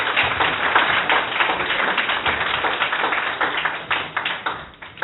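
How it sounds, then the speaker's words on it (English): An audience at a startup pitch networking event in a coworking space claps in a moderate, slightly uneven burst of applause that continues with scattered individual claps. "Big applause."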